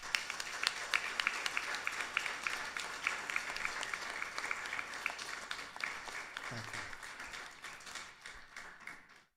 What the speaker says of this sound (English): Give yourself a lovely round of applause.